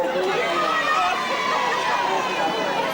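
Supporters of a football team fill a large crowd with steady, dense chatter and hubbub, a continuous loud wash of many voices with no single voice standing out.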